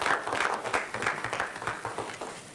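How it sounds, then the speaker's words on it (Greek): An audience claps steadily at a stage show, a dense, fairly loud patter of many hands that continues for the whole stretch. "Ευχαριστώ για το θερμό σας χειροκρότημα"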